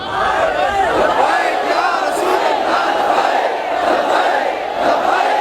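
A large crowd chants a religious slogan in unison, loud and close, with rhythmic massed voices rising and falling continuously in repeated waves.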